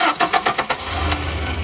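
A Toyota Model F Space Cruiser engine cranks with a rapid series of starter chugs, then catches and settles into a low, steady idle close by.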